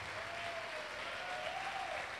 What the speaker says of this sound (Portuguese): Vamos dar uma salva de palmas a Deus pela vida da Renata.